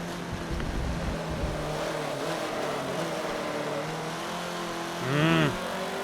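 An off-road buggy in Forza Motorsport 7 drones along with its engine revving through shifts, broad and fairly loud, with a brief swelling rev or skid near the end.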